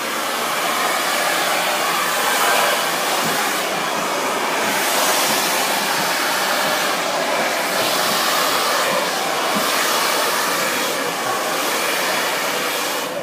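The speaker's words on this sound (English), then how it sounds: "While I'm blow drying, it's really important that you let the base of your head or the scalp of your head run along the curve of this dryer." A hair blow dryer running steadily and loudly while natural hair is stretched and straightened, a continuous close whooshing roar with slight swells as the airflow moves.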